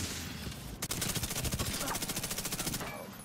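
Rapid automatic gunfire from The Division 2 shooter game comes as a dense run of evenly spaced shots lasting about two seconds, loud and close, following a brief sharp report.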